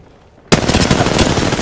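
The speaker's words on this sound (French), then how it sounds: "On me tire dessus" Rapid automatic gunfire from a first-person shooter video game bursts in suddenly after a moment of near silence, then continues as dense, loud, sustained firing with no talk over it.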